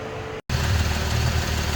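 A 2007 Jeep Wrangler with a 3.8L engine idling just after starting, fresh oil added following an oil pan leak repair; a steady, close low rumble after a brief dropout.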